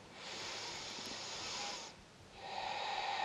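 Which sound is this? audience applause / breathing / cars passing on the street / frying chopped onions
breathing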